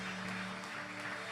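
A church congregation claps in praise during a worship service, a steady, dense wash of applause with a faint held musical tone beneath it.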